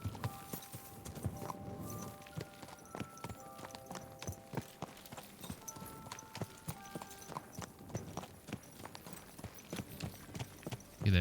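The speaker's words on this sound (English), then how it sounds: "My, what a beautiful horse." Horse hooves clip-clop steadily in Kingdom Come: Deliverance 2, a medieval role-playing game, with repeated sharp hoof strikes at close range over a busy camp background, and a horse briefly whinnies.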